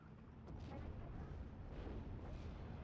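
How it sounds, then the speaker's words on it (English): Artillery shells land on a Flak 36 gun in the Steel Division World War II strategy game, heard as a faint, continuous low rumble of distant explosions and booms that fills the whole stretch. "So now the artillery coming down onto the Flak 36."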